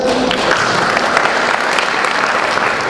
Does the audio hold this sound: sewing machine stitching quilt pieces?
no